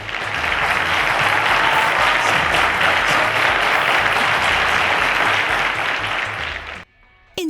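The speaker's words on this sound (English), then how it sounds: "a round of applause to Juliet Ekoko" A large studio audience at the junior category final of a mathematics quiz show applauds the champion in a loud, dense, sustained burst that cuts off abruptly near the end.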